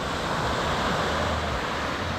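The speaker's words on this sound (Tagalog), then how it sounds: "Masama ang tama ng dagat." Rough sea waves roll and crash at Subic, Zambales, during a storm, in a loud, continuous wash of surf with wind rushing over the microphone.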